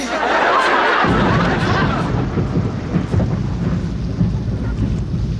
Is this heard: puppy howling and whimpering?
no